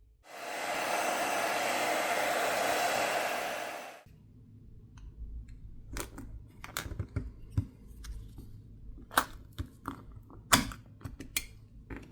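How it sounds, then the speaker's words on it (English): Close hairdryer blowing steadily for a few seconds on the glass back plate of a Samsung Galaxy A57 5G phone during a repair teardown, then cutting off abruptly, leaving faint handling clicks and taps. "heat needs to be applied to the back plate using either a hairdryer or a heat gun to loosen up the adhesive underneath"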